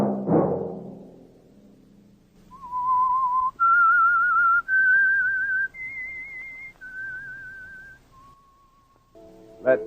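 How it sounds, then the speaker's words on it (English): A lone whistler carries the theme tune of The Whistler radio mystery show from a 1947 broadcast: a slow, clear melody of sustained notes stepping up and down, loud and up front, bracketed by brief sharp knocks at start and end. "Let that whistle be your signal"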